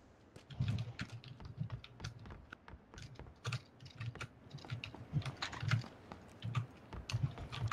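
A computer keyboard is typed on at a steady, uneven pace, with quick clusters of clicky keystrokes and brief pauses. The typing is fairly close and sounds alone.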